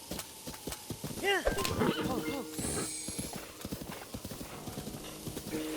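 A horse in The Legend of Zelda: Breath of the Wild neighs loudly while hooves clip-clop in a steady rhythm, with talking mixed in over the galloping.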